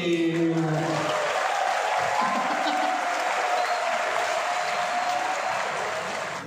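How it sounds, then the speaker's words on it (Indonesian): A lecture audience at a university session on big data in cyber security bursts into steady, fairly loud applause that follows brief speech at the start, then continues as an even, dense clapping wash throughout. "Tepuk tangan dulu dong."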